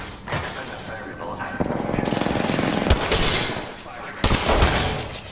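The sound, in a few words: gunfire in the Apex Legends video game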